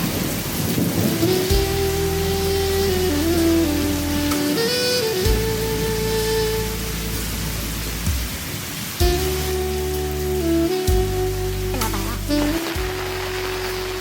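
Heavy rain falls at Bai Dinh temple in Ninh Binh as a constant loud hiss and patter, mixed with low rumbles and a steady layer of tonal music throughout.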